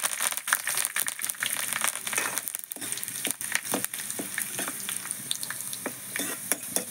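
Curry leaves dropped into hot oil with frying onions and mustard seeds for a Kerala-style chicken curry, giving a loud, crackling sizzle with sharp pops and spatters and some stirring scrapes, close and continuous.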